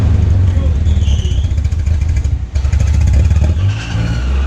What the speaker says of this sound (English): We need to figure out what are the possible causes for the engine to run this rough.